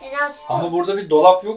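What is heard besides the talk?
No everyday noises stand out.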